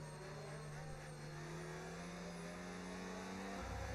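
Race cars in a racing video game idle and rev as a pack behind the safety car at the Abu Dhabi Grand Prix, a steady engine drone with rising tones, ending in a surge of acceleration as the restart begins.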